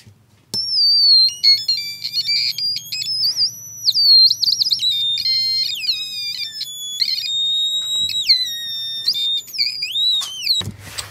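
A homemade 555 timer synth with photoresistors plays wavering, warbling electronic tones that swoop and jump in pitch. The tones come in bursts over a faint low hum and sit loud and close throughout.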